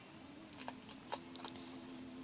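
Soft crinkling and a few light plastic crackles, brief and close, over a faint steady hum.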